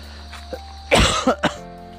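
A single harsh cough close by, followed by a couple of smaller throaty coughs in quick succession against a faint steady hum.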